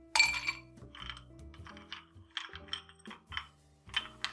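Ice cubes clinking and knocking into a whiskey glass, a series of sharp bright clinks and rattles spread across the moment, close and fairly loud, with no voices.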